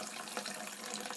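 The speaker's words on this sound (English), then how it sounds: "I just turn on the tap, and then the water comes out of here" Tap water runs steadily onto malted grain in a bucket while brewing a Guinness Extra Stout clone, a continuous splashing hiss with small gurgles, close by and alone.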